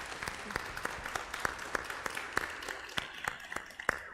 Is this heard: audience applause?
yes